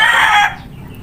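A rooster, a healthy but slightly thin fowl, gives a loud close crow for about half a second, then the sound drops to quiet background noise.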